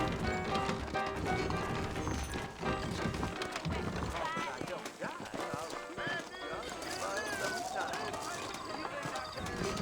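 Saddled horses in the Western game Red Dead Redemption clip-clop and gallop across New Austin, rapid hoofbeats with an occasional whinny running under ongoing conversation between characters.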